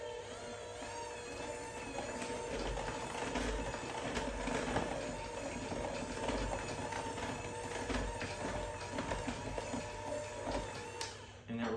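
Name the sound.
mixing batter of flour, salt, baking soda, buttermilk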